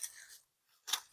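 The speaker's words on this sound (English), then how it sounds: "I just kind of want to enjoy the sound of my scissors cutting these grasses." Small garden grasses are snipped with hand scissors on a windy spring day: two crisp, close cuts separated by a brief pause.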